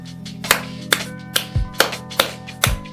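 Slow, loud hand claps, about seven in a row, spaced unevenly with brief pauses, close by with no talking.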